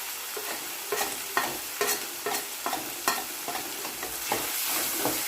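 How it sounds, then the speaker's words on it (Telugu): A spoon stirs turmeric into sizzling masala for gongura mutton curry, making repeated scraping strokes at a steady rhythm, roughly one or two each second, over a constant close frying hiss with no talking. "ఈ పసుపు కూడా అంతా కలిసే వరకు కలుపుకోవాలి"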